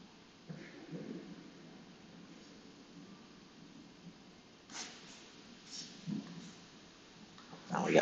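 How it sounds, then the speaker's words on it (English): Low thunder rumbles roll in faint and distant during a severe storm in Alabama, swelling briefly a few times over a steady hiss of rain. "now we got some rumbles of thunder here."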